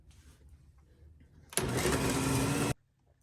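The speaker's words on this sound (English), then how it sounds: "The butter and sugar have been beating for probably 5 minutes or more" A mixer creaming butter and sugar for Christmas cookies switches on after a quiet, faintly voiced moment. It whirs at a steady loud level for just over a second, then cuts off abruptly.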